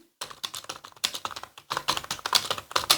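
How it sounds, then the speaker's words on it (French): Rapid clattering keystrokes on a cheap RGB gaming keyboard, close and uneven in rhythm, with short pauses between bursts of typing. "on écoute le bruit"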